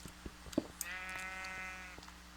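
A single drawn-out bleat from a sheep in the video game Minecraft, clear and moderately close, over faint background clicks and ambience.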